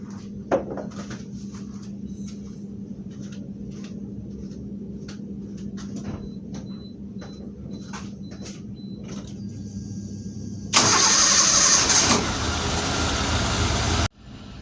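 A series of soft clicks and taps, then a Suzuki Esteem or Baleno engine abruptly cranks and roars to life after an engine wash, running loudly for a few seconds before cutting off.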